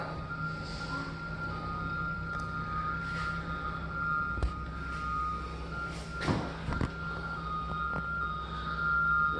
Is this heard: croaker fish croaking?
no